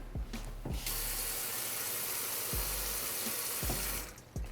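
Tap water pours into a pan with a steamer rack inside, a continuous bright rush lasting a few seconds, framed by a few low metallic knocks and clatters from the pan.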